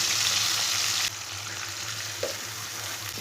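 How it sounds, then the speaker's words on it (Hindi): Onion and garlic frying in a pan over medium heat for aloo palak sabzi, a continuous dense sizzle that drops slightly in loudness partway through, with a faint clink of a utensil, no voices. "प्याज और लहसुन को 3 मिनट के लिए भून लेंगे।"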